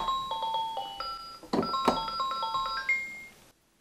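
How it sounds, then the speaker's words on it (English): A cartoon bell in a children's preschool birthday-party show rings out in a bright chime with sustained tonal partials, struck twice in quick succession, near and clear over a soft musical backdrop. "You have to hit the bell first."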